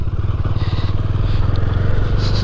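A Bajaj Dominar motorcycle riding on a cold day, its engine giving a steady, close, throbbing putter with rattling and wind noise over the top.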